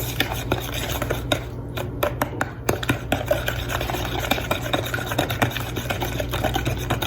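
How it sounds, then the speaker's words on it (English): Brown sugar, oil and eggs being stirred together in a bowl for baking, giving a steady run of close scraping and swishing strokes against the bowl with a constant low hum underneath. "so then we mix those 3 ingredients up"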